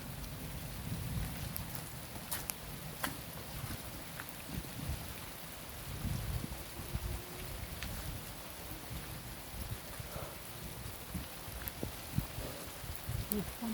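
Steady rain from a moderate thunderstorm in Montady falls and patters on surfaces, with scattered louder drips and a low rumble underneath, continuous throughout.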